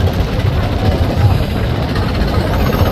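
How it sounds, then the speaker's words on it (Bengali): A passenger launch arriving from Matlab on a river in Bangladesh gives a loud, steady low diesel engine rumble that holds without a break throughout. "তো মতলব থেকে একটি লঞ্চ চলে আসলো"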